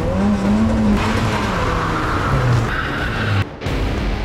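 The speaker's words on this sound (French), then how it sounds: "Tu vas voir si elle va pas avancer la voiture, tu vas voir." A car drives up ahead of a staged crash, its engine droning close and loud while tires squeal in short rising and falling skids throughout.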